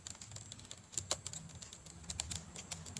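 Typing on a computer keyboard, with quiet irregular clicks and taps in short bursts and a few sharper keystrokes, close and soft, with no talking.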